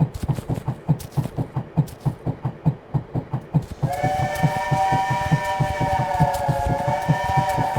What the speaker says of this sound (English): It's a bit different seeing this from the train's perspective.